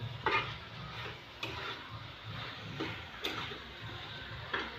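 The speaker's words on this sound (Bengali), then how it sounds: "বেতো শাক ভাজবো। লাড়ো ভালো করে।" Bathua greens stirred in a frying pan, with a soft continuous sizzle and a few sharp scrapes or taps of the spoon against the pan at irregular intervals, close by and fairly quiet.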